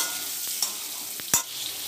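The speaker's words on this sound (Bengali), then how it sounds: "একটু আলু এবং পেঁপেটা আমি একটু ভেজে নেব" Potato and papaya pieces with turmeric fry in a pan, a close steady sizzle punctuated by a few quick spatula scrapes and one louder clack.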